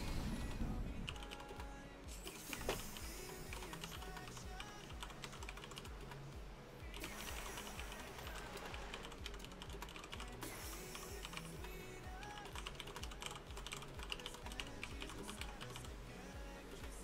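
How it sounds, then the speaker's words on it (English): A clicky computer keyboard typed on in quick, uneven bursts of crisp key clacks, close up and steady throughout, with no talking. "Lovely sound of my keyboard. Nice and clicky."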